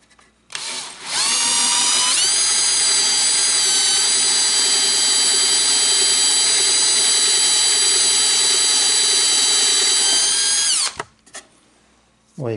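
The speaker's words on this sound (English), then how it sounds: "I'm not the greatest at hand drilling holes" A power drill bores small holes into oak by hand, spinning up sharply and running at a steady high whine for about ten seconds, loud and close, then cutting off abruptly.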